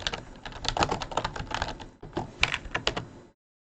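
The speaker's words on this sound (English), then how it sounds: "you're used to my live typing by this point" Rapid typing on a computer keyboard during a chill crochet livestream: dense, close, clattering keystrokes in quick runs with a brief pause midway, then an abrupt cut to silence.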